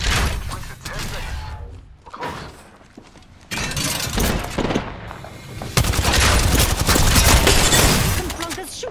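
Rapid gunfire bursts in an Apex Legends firefight, loud overlapping shots in several waves with heavy game audio throughout.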